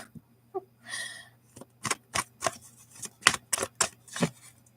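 A deck of oracle cards being shuffled, sounding as a burst of riffling followed by a string of crisp, close card slaps and flicks in an irregular rhythm over a faint steady hum, with no voices.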